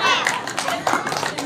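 An audience at a humorous religious talk claps briefly in quick, uneven bursts, with voices talking over the clapping.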